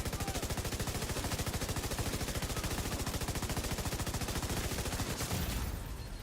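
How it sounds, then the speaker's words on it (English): A light machine gun rattles in a video game, a long unbroken burst of fast, evenly spaced shots, loud and close, cutting off abruptly near the end. "You hit that bottom half of the mag on your LMG, you start"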